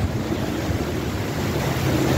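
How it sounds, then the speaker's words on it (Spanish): A river running high in the United States, seen from a boat, gives a steady broadband rush of water that fills the whole clip evenly at close range, with no voices. "Lleva mucha agua este río"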